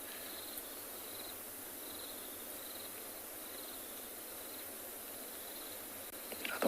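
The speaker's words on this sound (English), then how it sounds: "Lots of other bird calls in the distance." Distant bird calls in the South African bush on an afternoon safari, faint repeated short notes over a constant hiss of insects, with no talking.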